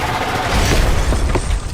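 Explosion sound effects in a dramatized horror story rumble loudly and continuously, with a couple of sharper booming hits rising out of the roar.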